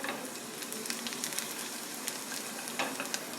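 Cumin seeds crackle in hot oil with chopped onion in a pan, a steady close sizzle dotted with quick, light pops throughout, with no voices.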